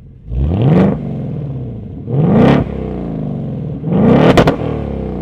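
A stock 2024 Ford Mustang GT V8 with active exhaust revs three times in sequence, each a loud, rising blip that drops away, the last one sharpest, with no talking over it.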